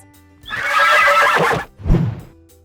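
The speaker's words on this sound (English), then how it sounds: "It's a horse!" A horse gives a loud, close whinny lasting about a second, followed by a short snort or lower second call, with no talking.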